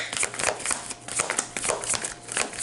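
Tarot cards being shuffled by hand in a repeated riffling rhythm, with crisp papery bursts recurring about every half second, close and fairly loud, with no talking.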